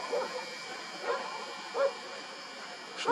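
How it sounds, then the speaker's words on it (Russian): Dogs barking outdoors on a winter evening during Jupiter and Saturn observation, a few moderate yips and barks at irregular intervals over a faint background hiss. "собачки, совсем разошлись"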